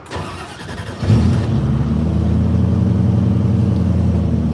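A 1968 Ford Mustang with a manual transmission cranks briefly, then catches and settles into a loud, steady, rumbling idle, heard up close with no voices.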